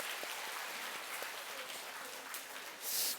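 A church congregation claps together in steady, fairly distant applause at a Sunday service, the sound staying even throughout and brightening slightly at the very end.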